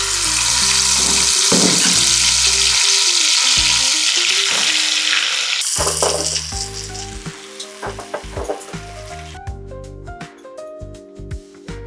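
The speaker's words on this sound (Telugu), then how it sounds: "మనం ఫ్రై చేసుకున్న చికెన్ని ఇందులో వేసి మళ్ళీ ఫ్రై చేసుకోవాలి." Chicken pieces for pickle fry a second time in hot oil, making a loud, steady sizzle that later thins into scattered crackles and pops, with tonal background music playing underneath throughout.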